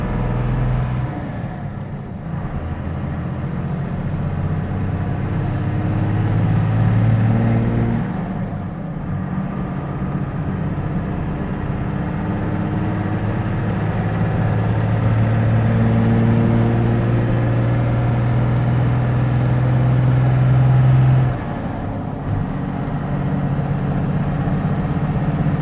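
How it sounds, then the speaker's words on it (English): A tuned Cummins diesel truck pulls hard through the gears on a freeway, a loud, continuous engine drone whose pitch climbs in long sweeps with brief dips at each shift, heard from inside the cab. "Let's watch the smoke as we run through the gears"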